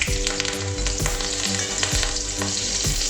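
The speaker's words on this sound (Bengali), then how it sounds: "কাঁচা লঙ্কা চেরা এবার হালকা করে নেড়ে নেব।" Split green chilies and nigella seeds frying in hot oil for a taro stolon and prawn dish, stirred with a spatula: a loud, dense, continuous sizzle broken by regular scraping strokes against the pan, close up, no talking.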